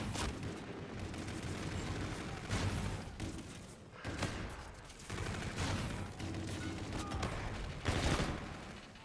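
Gunfire from a weapon in the shooter game Infinite Warfare, with dense bursts of shots crackling in loud, near-continuous volleys and brief pauses between them.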